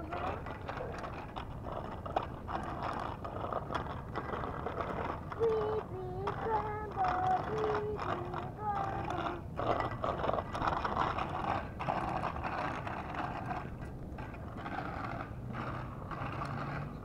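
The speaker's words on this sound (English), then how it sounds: "Chase finally gets to ride his new Spiderman bike" A small child rides a new Spiderman bicycle outdoors, its freewheel ticking and ratcheting in a continuous mechanical clatter, with voices talking nearby.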